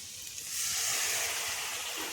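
Water poured into hot oil and frying spice masala for a traditional Bengali banana-flower curry with chickpeas hisses up into a loud, steady sizzle after a brief quiet start, holding bright and close until the end.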